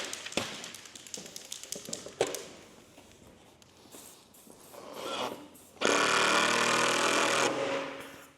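Self-tapping screws driven into the lower dashboard of a Series 3 Land Rover, close rattling taps and short tool bursts, then a loud, steady power-tool whir holding for a couple of seconds near the end.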